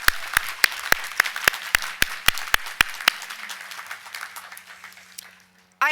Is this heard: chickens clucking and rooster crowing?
no